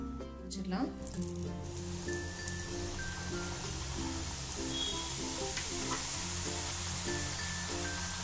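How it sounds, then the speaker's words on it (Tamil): Oil hisses and crackles as kalakala pastry fries in a pan, a steady sizzle running under continuous talking, with a brief clatter near the start. "இப்போ பொரிக்க ஆரம்பிச்சிடலாம்."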